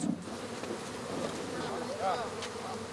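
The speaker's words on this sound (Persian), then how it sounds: "مرد 55 ساله که بینگاو نام دارد بدنش را با بیش از 109 کیلوگرم زنبور پوشانید" A dense swarm of bees covering a man's body in a record attempt, giving a steady, close buzzing drone that fills the scene, with a faint voice briefly underneath.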